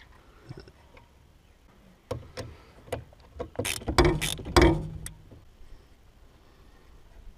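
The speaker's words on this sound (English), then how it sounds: "Now I need to take off this nut." Metallic clicks and scraping from a wrench loosening a nut while a truck steering column is removed, a sparse run of sharp ticks building to a louder burst of ratcheting clatter near the middle, close and without talk.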